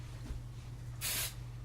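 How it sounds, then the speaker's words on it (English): Hairspray aimed at the top section of curled hair, a single short hissing burst from an aerosol can under a faint steady hum. "you're going to spray the top part just like you did with the back"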